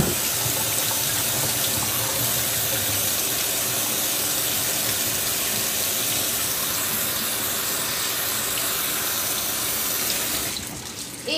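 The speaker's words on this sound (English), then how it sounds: "I'm gonna give my hands a quick wash." Steady, loud rush of a running sink tap as hands are washed in a home kitchen, continuous and close, with the flow cutting off near the end.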